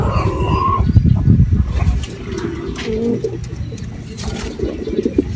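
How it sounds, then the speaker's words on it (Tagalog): Racing pigeon named Old Japan cooing in soft repeated low calls at the loft on arrival, with other birds and loft noise around it and no talk. "heto yung first bird natin mga kalapatids, si Old Japan"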